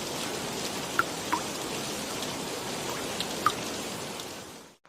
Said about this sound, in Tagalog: tayo nga, inaabot ng ulan dito sa Calauan, Quezon.